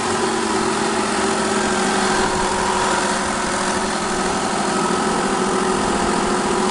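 A BMW Z3 roadster fitted with a 5.4-liter M73 V12 engine runs steadily nearby, a loud continuous idle with a dense, even hum and low vibrating rumble and no break throughout.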